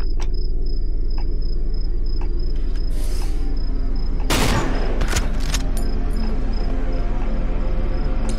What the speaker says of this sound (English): I think I'm just going to kill them with sniper rifle